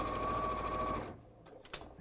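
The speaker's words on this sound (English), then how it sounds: "speed sewing" A sewing machine races at high speed for about a second, a dense steady whir, then cuts off, leaving quiet handling clicks.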